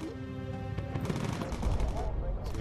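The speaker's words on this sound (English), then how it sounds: "Good shooting, Williams." Bomber crew gunners open fire in the WWII bomber game Bomber Crew, a dense rattle of gunfire running steadily under game noise and low voices.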